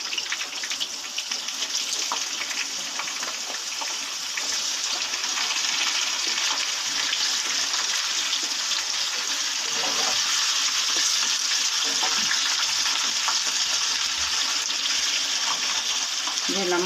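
Potatoes go into sizzling, lightly browned cumin in a frying pan, and a continuous close frying hiss rises and swells with stirring sounds.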